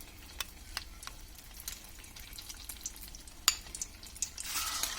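Aloo chop potato croquettes frying in hot oil on a medium flame, a quiet bubbling sizzle with scattered sharp crackles and pops, rising into a louder hiss near the end.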